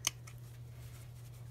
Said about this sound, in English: that's why I use these really sharp pointed scissors to clip